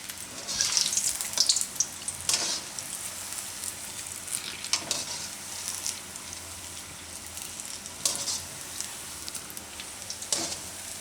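Green chickpea bhajiya fritters frying in hot oil, with a steady bubbling sizzle throughout and periodic louder crackling spurts, close and with no talk.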